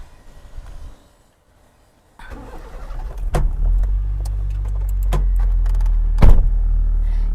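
Someone gets into a car, with a door thud and the engine starting, then a steady idle and driving rumble with a few sharp clunks; no talk.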